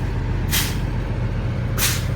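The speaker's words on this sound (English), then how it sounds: "you're gonna pump on the brakes like 3 times to lose pressure" Inside a truck cab, the air brakes are pumped to bleed pressure, and two sharp, loud hisses of escaping air sound about a second apart over a steady low engine idle.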